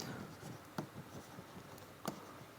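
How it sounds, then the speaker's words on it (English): Handwriting notes during a geology lecture, with pen strokes scratching in short soft bursts and a couple of sharper taps, close but quiet against a faint room hiss. "Let me write down."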